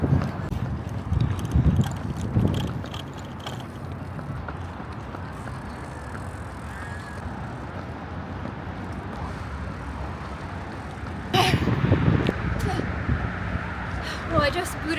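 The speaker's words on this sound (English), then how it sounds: "this wind is ridiculous" Strong gusty wind buffets a runner, giving low rumbling bursts that swell at the start and again near the end, mixed with footfalls and road noise.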